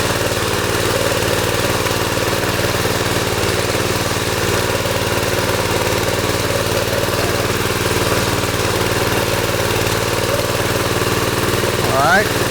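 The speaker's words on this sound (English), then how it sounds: "the trowel machine kind of walks on its own" A power trowel machine runs steadily while smoothing a concrete slab for a barndominium, its motor droning at an even, close level throughout, with a brief higher scrape near the end.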